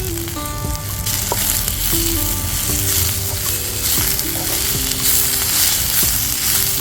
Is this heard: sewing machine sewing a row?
no